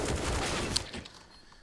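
Gunfire in a professional CS:GO match at IEM Katowice 2022: a dense burst of shots over roughly a second, with one sharp crack standing out, then fading to quiet.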